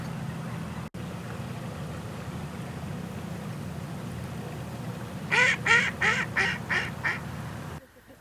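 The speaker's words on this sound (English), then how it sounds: "And these are mallards, a very common duck." Mallard ducks quack in a quick run of about six loud calls over steady outdoor background rumble near shallow water, fairly close and with no talk over them.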